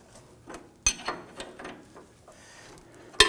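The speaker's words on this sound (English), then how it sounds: "And wanna go ahead and tighten down our bolt" A ratchet tightening a bolt on a 2015-2020 Ford F-150 camber kit, giving a handful of sharp metallic clicks spaced irregularly, with two louder snaps standing out, close up in a quiet garage.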